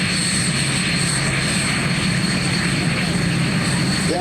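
A Marine Corps MV-22 Osprey tiltrotor at an air show produces a loud, continuous engine and rotor roar with steady droning tones, filling the air without a break, while an announcer's voice sits faintly underneath.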